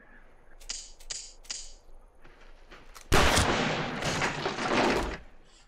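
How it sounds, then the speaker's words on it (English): Gunshots in a scene from the 1971 film Billy Jack: several sharp, separate shots early on, then a loud, dense roar of continuous firing for about two seconds. "do you hear those fucking shots?"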